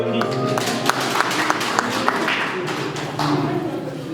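A church congregation at a Sunday Mass claps hands in acclamation of Christ, a dense, steady burst of many hands lasting several seconds alongside singing and voices.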